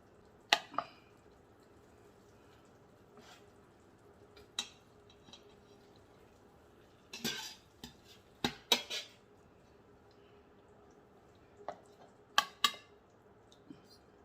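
Cooked meat for a traditional Fez-style wedding dish with fried almonds and eggs is set into a serving platter, giving sparse, faint clinks and soft knocks scattered across an otherwise quiet kitchen.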